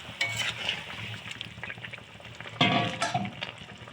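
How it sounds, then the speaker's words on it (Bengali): Gravy for a Bengali bata fish curry simmers in a pan, bubbling and crackling steadily, with louder bursts of stirring and clatter partway through and no one speaking. "ঝোলটা ফুটে উঠেছে"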